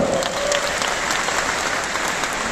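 Steady applause from a crowd, dense clapping throughout with no pauses.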